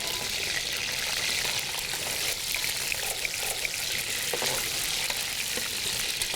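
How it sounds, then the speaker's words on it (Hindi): Whole black peppercorns and cloves fry in hot oil with a steady, fairly loud hiss and faint crackle, with light stirring scrapes throughout and no talk. "कोई 12-15 इसमें साबुत काली मिर्चें हैं और 8-10 लौंगे हैं जो मैं इसमें डाल दूँगी। इसको थोड़ा फ्राई करेंगे।"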